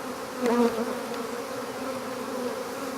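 Honey bees buzz steadily during a spring hive inspection, a close continuous hum with one louder swell as a bee passes near, no voices.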